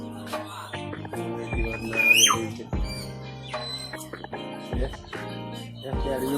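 A bird lets out a sharp rising squawk midway, set against overlapping background voices and steady ambient noise.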